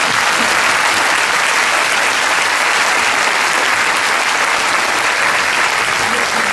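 A concert audience at a Circassian music event in Ankara breaks into loud, sustained applause, a dense, steady wash of clapping that fills the whole stretch without pause.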